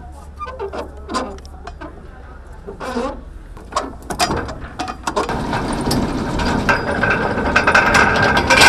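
Ship's anchor windlass walking out the anchor with the brake opened, a steady mechanical ratcheting clatter building up loud and continuous after brief talk at the start.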